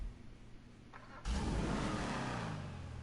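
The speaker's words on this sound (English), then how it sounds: "kind of the normal muscle car sound" In GTA Online, a muscle car engine starts up suddenly after a quiet moment, then roars and revs loudly with a deep, throaty growl.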